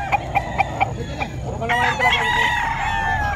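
Roosters and hens at an early-morning pet market in Bocaue, Bulacan: a run of sharp rhythmic clucks gives way to a loud nearby rooster crow, with more fowl and crowd noise around.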